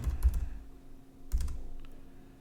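Keys clatter on a computer keyboard as a Midjourney image prompt is typed, two short bursts of close, crisp clicking about a second apart, separated by a quieter stretch.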